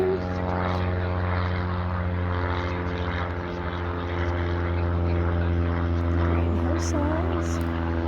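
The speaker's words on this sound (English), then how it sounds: "There's an airplane." A propeller airplane drones steadily overhead above gently rolling green hills by a lake, a continuous engine hum lasting throughout with a faint voice briefly underneath.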